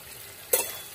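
Fried cauliflower and potato pieces drop into hot spice masala for a Bengali rui fish curry, setting off a sudden loud sizzle that rises midway and fades into a steady frying hiss.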